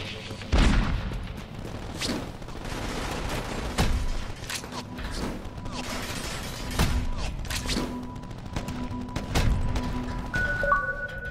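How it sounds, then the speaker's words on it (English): Explosive barrels in Crackdown 2 being shot and blowing up, several booming blasts with crackling debris over a continuous game background rumble. "Barrels like this are highly explosive, Agent, so be careful not to be within the blast radius when you shoot one."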